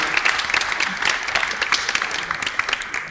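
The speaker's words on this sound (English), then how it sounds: "which I think deserves another round of applause" Audience applause at a National Gallery art talk, dense and steady clapping from a sizeable crowd held at an even level throughout, with no voices over it.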